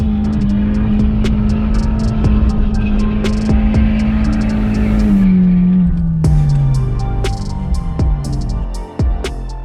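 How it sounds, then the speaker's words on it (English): A BMW E46 spins a celebratory donut, its engine droning loud and steady, then the revs sag and fall away as the car slows, with tire scrubbing and sharp clicks and knocks scattered through. "A quick celebrating donut is in order, right?"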